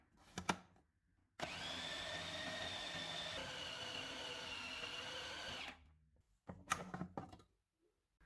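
An electric chopper whirs steadily for about five seconds, blending kofta mixture with egg and spices, framed by short clatters and knocks of handling before and after.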